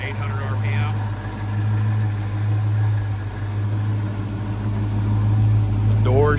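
A 1971 Ford Torino GT convertible engine idles steadily after a cold start, a low continuous rumble close by with a faint whine near the end.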